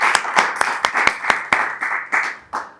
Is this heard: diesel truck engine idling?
no